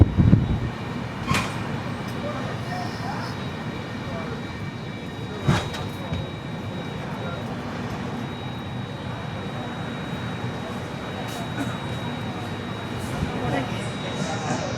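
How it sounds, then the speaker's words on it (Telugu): A train rolls into Ongole station with a steady, close rumble and rail noise. A sharp clank comes near the start and another around five seconds, and voices murmur faintly underneath. "మన వెనక చూస్తే ట్రైన్ అయితే వస్తుంది ఒంగోలుకి"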